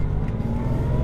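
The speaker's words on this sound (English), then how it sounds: "So that means a little extra time getting the car warmed up" Air-cooled engine of a Porsche 911 3.2 Carrera warming up on a cold day, a steady close low idle rumble with fan whir, continuous and even through the short stretch.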